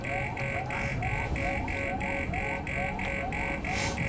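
A repeating electronic alarm in the sci-fi horror game Alien Isolation pulses in a steady rapid rhythm, each beep paired with a rising tone, loud over a low ambient rumble.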